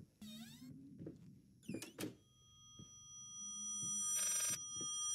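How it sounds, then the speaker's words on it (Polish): A telephone rings inside the haunted house of the horror game Layers of Fear, an electronic tone trilling in a few bursts, with a sustained ring near the end over eerie ambient creaks and soft thuds. "Telefon?"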